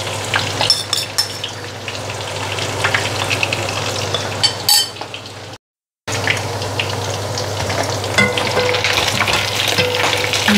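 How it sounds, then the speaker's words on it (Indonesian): Salted fish frying in hot oil, a steady loud sizzle with sharp crackles and pops throughout, briefly cutting out midway before the frying resumes. "Makannya enak tapi bikinnya keletak-letuk ini ikan asin teh."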